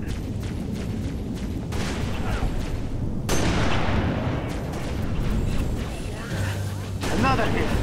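A weapon fires in the Halo: Reach video game, with dense, loud booming gunfire and explosions running continuously throughout, while voices talk over the action.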